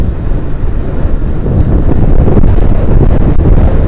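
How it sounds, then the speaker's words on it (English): Heavy wind buffets the microphone on a motorcycle filtering through traffic, a loud, roaring, gusty rumble that pulses and swells continuously throughout, with no speech. "That's windy as shit."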